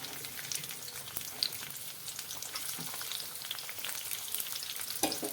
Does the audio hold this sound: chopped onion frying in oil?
yes